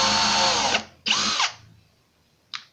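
A power drill with a countersink bit bores into wood in two short bursts of whining, the second with a dipping pitch as it bites, then a brief final blip after a pause.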